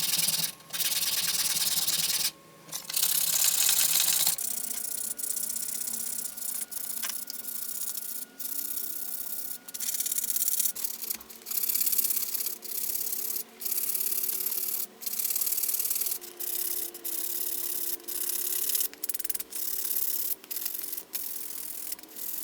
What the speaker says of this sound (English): I think this bad boy is ready for some nice final hand sanding